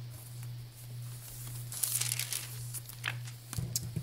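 Crinkly paper from an old book rustles and crackles softly as it is handled for a junk journal, faint close crinkles over a low steady hum.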